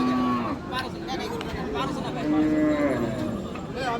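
Cattle lowing at a busy Raniganj cattle market where Friesian cows and calves are sold, with several drawn-out moos rising over a steady crowd murmur and chatter.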